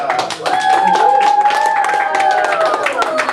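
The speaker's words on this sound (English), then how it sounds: "Claps for Costa, claps for Costa." An enthusiastic audience claps for a speaker named Costa before a talk, a dense patter of many hands running throughout, with voices calling or chanting above it.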